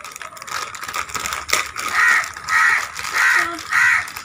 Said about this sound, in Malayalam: ഈ കാക്ക എപ്പോഴും വരും